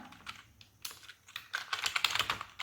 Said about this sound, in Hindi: लोअर वर्ड से संबंधित वर्ड को ही हम यहाँ पर टाइप कर रहे हैं